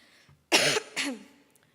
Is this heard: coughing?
yes